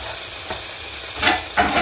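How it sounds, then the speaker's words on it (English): Chunks of trimmed beef sear in a hot pan for a Persian ghormeh sabzi stew, a continuous close sizzle that swells with a couple of louder spitting bursts near the end. "we're carefully going to put in the beef"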